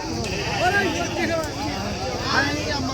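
Sheep bleat repeatedly at the crowded Macherla sheep market, with several wavering calls up close and people talking over a busy background.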